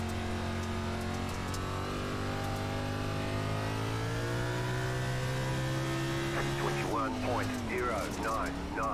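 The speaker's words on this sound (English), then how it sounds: "Something is up with the engine." A race car engine in the iRacing game on Bristol dirt holds a steady droning rev that wavers and flutters, and a voice talks over it near the end.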